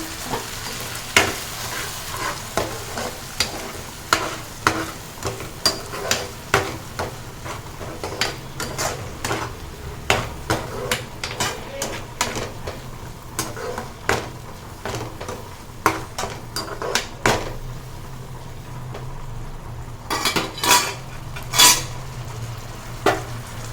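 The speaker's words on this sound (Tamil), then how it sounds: "இப்போ தக்காளியும் அதோட இந்த பேஸ்ட்டையும் சேர்த்துடலாம் சேர்த்துட்டு நல்லா வதக்கி விட்டுடலாம்" Tomatoes and masala paste sautéing in a pan for homemade masala pasta, with a steady low sizzle under repeated scraping and clinking stirs of a utensil against the pan, close and moderately loud.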